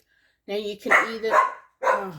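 A household dog barks a few times indoors as people arrive home, short loud barks interleaved with a woman's speech.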